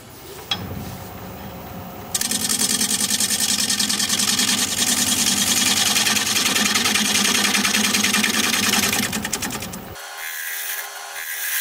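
A wood lathe turns a bowl blank while a tool flattens its bottom, giving a steady loud whirring scrape from about two seconds until near the end, where it drops away to a quieter hum.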